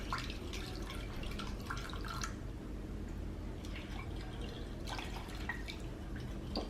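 Water pours into a pot of Manipuri-style chicken curry, a soft, continuous splashing trickle with brief sloshing swells, over a low steady background rumble.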